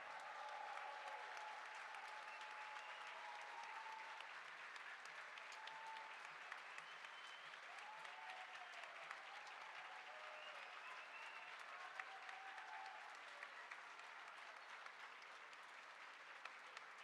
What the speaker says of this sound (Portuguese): para uma salva de palmas em reconhecimento pelo seu trabalho